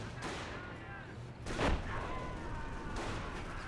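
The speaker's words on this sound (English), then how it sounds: "Incendiary trap has been detonated." An incendiary trap detonates in a Company of Heroes match, a burst of explosive noise rising out of distant battlefield rumble and gunfire, with brief speech around it.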